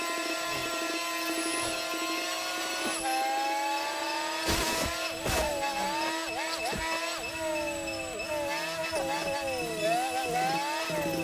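A slow car with heavy body roll drives in the GTA V video game, its engine droning steadily and rising and falling in pitch with revving and gear changes, with other game sounds mixed in.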